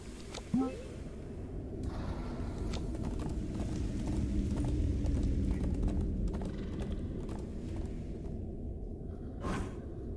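Horse hooves clip-clopping in a video game, a rhythmic run of light hoofbeats and mechanical clatter at moderate loudness over a low rumble, with a voice briefly heard.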